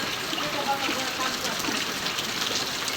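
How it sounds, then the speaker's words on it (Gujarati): Heavy rain falling in Gujarat, a broad wash of steady hiss with running water mixed in, loud and constant, with possible faint voices underneath. "જોરદાર વરસાદ હો।"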